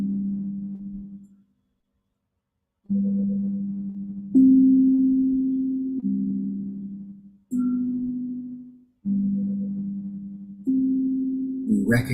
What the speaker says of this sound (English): We recognize that there is sound from the tones.